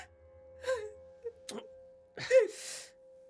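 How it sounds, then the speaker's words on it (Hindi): A woman cries in a Hindi audio drama, with short wavering sobs, a sharp gasp and a louder drawn-out wail near the end, over a faint steady tone. "घर में सुबह सुबह सुशांत की आंख शिवानी के रोने की आवाज से खुलती है।"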